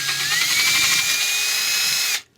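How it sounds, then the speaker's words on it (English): A power drill whines steadily at high pitch for about two seconds, close up, drilling through a hole into a center ring for a DIY LED fog light, then stops abruptly. "just drilling through that hole"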